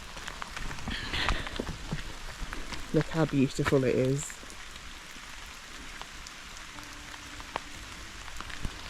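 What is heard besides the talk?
rain in a forest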